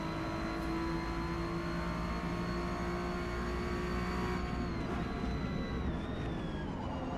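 An Acura NSX race car in Forza Motorsport, an S class race at Grand Oak, roars steadily under acceleration at close range, with a sustained engine whine that shifts pitch near the end.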